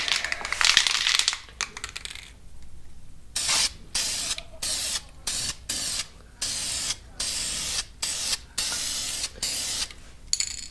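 A spray paint can hisses onto an aluminum wheel in a series of short bursts, one long spray followed by about ten quick repeated blasts separated by brief pauses, close and loud.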